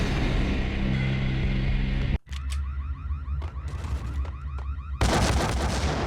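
Gunfire from enemies in the 2001 PC game Max Payne, loud and dense bursts of shooting with rapid repeated shots and booming impacts, broken by a brief cut near the middle and surging again toward the end.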